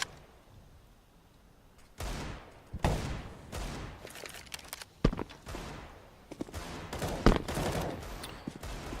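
Bursts of gunfire ring out during a CS:GO match between FaZe Clan and Team Liquid, with repeated rapid volleys and sharp individual shots over a busy background of in-game noise.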